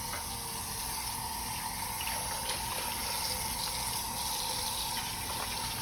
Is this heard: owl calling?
no